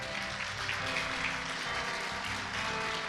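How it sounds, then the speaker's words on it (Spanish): A church congregation applauds during a Spanish-language worship service, a dense, steady wash of clapping that carries on for the whole stretch, with faint sustained tones beneath it. "¿Cuántos aplauden el nombre del Señor?"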